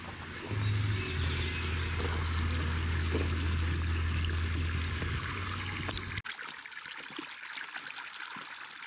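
Water poured from a pool flows in a steady, loud continuous stream for about six seconds, then cuts off abruptly, leaving faint trickling and background noise.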